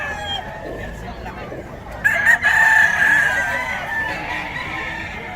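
Chickens and roosters at a gamefowl gathering in Bocaue: a rooster crows clearly midway, ringing out over scattered clucking and background chatter from people nearby.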